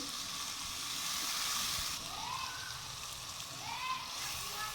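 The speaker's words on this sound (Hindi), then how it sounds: "मसाला फ्राई हो चुका है।" Spices frying in ghee for aloo gobi give a soft, continuous sizzle and hiss close up with faint splattering, fairly quiet throughout.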